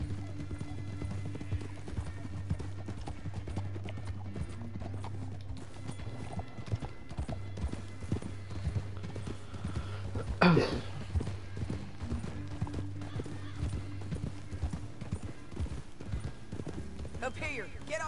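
Horse hooves clip-clop at a steady galloping rhythm in Red Dead Redemption 2, with a single whinny partway through and voices talking over the hoofbeats.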